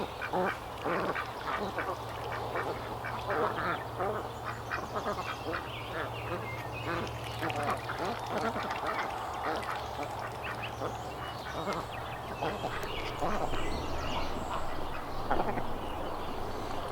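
A flock of ducks kept for weed control in a garden quacks steadily and overlapping throughout, a busy chorus of calls with a low hum underneath.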